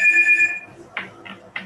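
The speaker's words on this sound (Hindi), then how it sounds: "वो आपके पीछे फोन की आवाज आ रही" A tonal electronic ring sounds briefly at the start, then fades as a few faint voice-like bursts follow.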